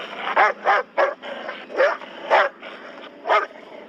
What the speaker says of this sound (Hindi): घर के अंदर बैठा जर्मन शेफर्ड कुत्ता उन पर जोर जोर से भौंकने लगता है।